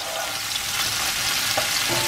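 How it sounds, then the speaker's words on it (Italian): Crumbled luganica sausage meat sizzling in a frying pan, a steady close hiss of frying fat with faint stirring scrapes and no speech. "io preferisco dargli un attimino una sfrigolata anche solo la polpa, anche perché voglio sbriciolarla del tutto"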